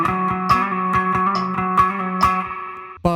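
Electric guitar plays a bar with effects, picked notes ringing over a steady metronome click that ticks about twice a second, loud and close.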